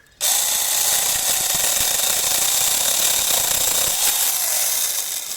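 A Konsun cordless saw cuts into wood, starting abruptly and then running as a loud, steady buzzing rasp close by, with a slight change in pitch partway through the cut.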